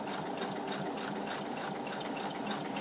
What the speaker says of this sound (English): then I can continue stitching